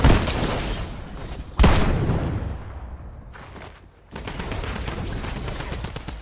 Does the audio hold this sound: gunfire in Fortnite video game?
yes